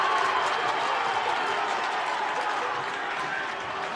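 Crowd noise fills a high school boys basketball game between Highland and Alta, a loud continuous roar of cheering and applause from the stands that stays steady throughout and eases slightly near the end.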